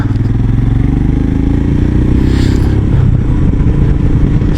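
A 2019 Royal Enfield Himalayan motorcycle engine runs loud and close on a country back road, a steady throbbing drone with a brief clatter and a dip in pitch partway through as the gear changes.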